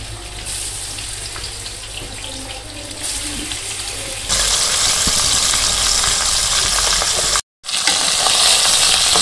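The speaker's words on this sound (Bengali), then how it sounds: "তো মাছগুলো দিয়ে দিই।" Stingray fish frying in oil in a wok: loud, continuous hissing sizzle that swells sharply partway through as more pieces go in, with a brief dropout near the end, no talking.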